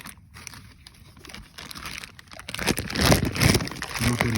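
Plastic bag crinkling while a new wheel hub assembly for an SN95 Mustang GT is handled, faint rustles at first, then louder, denser crackling bursts close by in the last two seconds.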